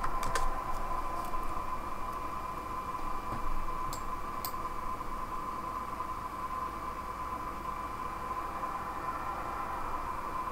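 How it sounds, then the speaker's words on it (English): Fingers tapping on a computer keyboard, a few quick clicks early on then sparse keystrokes over a steady faint hiss and a thin hum, fairly quiet and close. "to pull the Fedora image from the internet, you just type in Docker pull and the name of the image"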